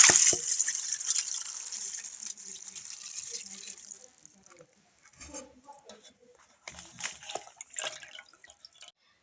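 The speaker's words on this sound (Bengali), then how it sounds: "এই যে এবারে চালটাকে ছেঁকে নিচ্ছি।" Water pours and drains off soaked rice through a strainer, a strong rushing splash for about four seconds, then sparse drips and trickles.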